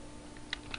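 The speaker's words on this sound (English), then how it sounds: "go ahead and type in your password" A password is typed on a computer keyboard as two or three quick, faint key clicks within a second, over a quiet room hiss.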